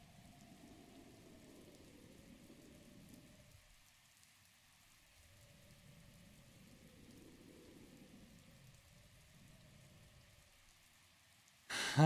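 Steady rain from Zelda: Breath of the Wild falls as a soft, even patter across the whole stretch, with low rumbling swells rising and fading underneath, quiet and continuous, and no voices.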